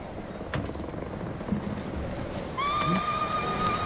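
A horse in the video game Ghost of Tsushima whinnies loudly partway through, its neigh rising over a steady backdrop of ambient game sound with faint hoof clops.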